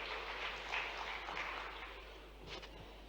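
Audience applause at a state-level weavers' and artisans' conference in Bhopal, a steady wash of many hands clapping at moderate distance with a constant low hum beneath, tapering slightly toward the end.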